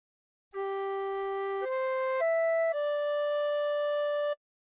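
A recorder plays a short phrase of the hymn Nearer My God to Thee: four smooth, sustained notes in a row, clean and steady with no other sounds.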